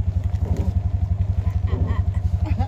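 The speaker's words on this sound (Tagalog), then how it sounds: "Kasi ang tahimik ng tunog ng motor." A new, quiet motorcycle engine idles with a steady, rapid low throb, loud and close, with faint voices mixed in.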